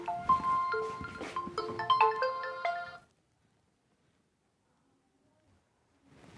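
Mobile phone ringtone playing a melodic electronic tune for about three seconds, fairly loud and close, then cutting off into near silence.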